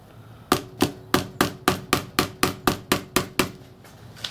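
Hammering frets into the neck of a thrift store Picasso bass, a close, loud series of about twelve evenly spaced metallic-wooden taps, each ringing briefly, with no talk.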